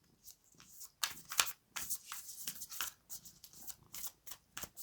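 A deck of playing cards being shuffled close up, with a run of quick papery riffles and soft flicks coming in irregular bursts, fairly quiet.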